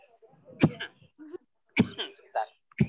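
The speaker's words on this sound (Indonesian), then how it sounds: "Namanya batuk." A couple of short, harsh coughs burst out close by, separated by brief pauses and a little breathy vocal noise.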